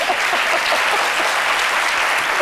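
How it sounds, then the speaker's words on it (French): An audience claps loudly and continuously, a thick steady wash of many hands with no talking over it. "on vous applaudit très fort"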